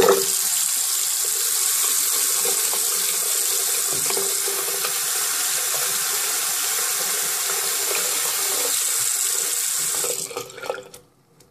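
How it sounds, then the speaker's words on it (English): Cold tap water running from a faucet at low velocity into a sink or glass, a steady close hiss of flowing water for about ten seconds before it is shut off and fades out. "So I'm going to start with the low velocity cold water situation."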